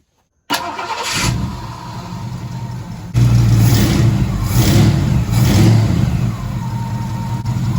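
A Ford 302 V8 cranks and fires with a new alternator fitted, catching after a brief start, then running loud and close with repeated throttle revs swelling over a steady rumble for several seconds, no talk.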